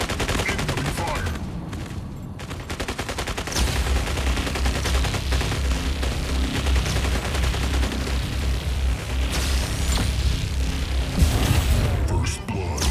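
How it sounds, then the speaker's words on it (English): Rapid bursts of mech gunfire and booms from the MechArena video game fill the scene, a dense, continuous barrage with heavy low rumble and mechanical clatter under brief in-game voice callouts. "Incoming fire."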